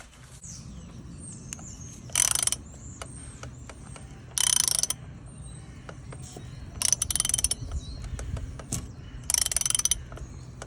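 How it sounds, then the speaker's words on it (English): Oil filter housing being screwed back onto a Renault Master van, heard as bursts of ratcheting clicks from a hand tool in several separate runs with pauses between them, close by and fairly loud. "So now it's just a matter of screwing it back in."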